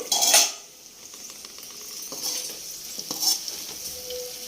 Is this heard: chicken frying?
yes